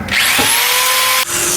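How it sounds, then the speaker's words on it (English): A low-power drill spinning a cheap polishing wheel against bicycle parts makes a loud, steady whine with a brief bump early on and a drop in pitch near the end as the load changes. "This low power drill and this crappy wheel,"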